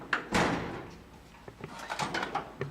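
A metal tool chest drawer in a home shop is pulled open, a sliding scrape followed by a clunk, then scattered light rattles and taps of tools shifting inside, close and moderately loud.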